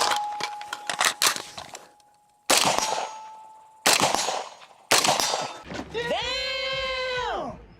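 Shots from a Daewoo DR200 rifle fired at distance: several sharp, loud cracks in quick bursts with clattering echoes, separated by short pauses, followed by a long wavering electronic tone.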